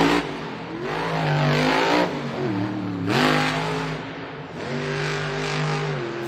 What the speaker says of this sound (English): You see him revving that engine.